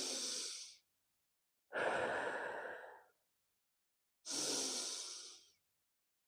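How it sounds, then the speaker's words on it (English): Slow deep breaths taken during a guided meditation, three long airy inhales and exhales close to the mic with silent pauses between them. "Take a deep breath."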